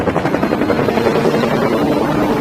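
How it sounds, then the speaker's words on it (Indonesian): FBI helicopters arrive in the 2007 film Shooter, their rotors thumping in a loud, continuous, close roar that fills the moment with no voices. "tiba-tiba 2 helikopter FBI datang untuk menangkap Swagger"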